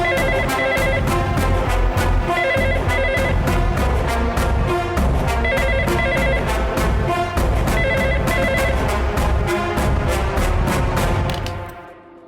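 A telephone rings continuously in a TV drama scene, a dense repeating electronic bell tone that stays loud and steady, then cuts off near the end, with no talk over it.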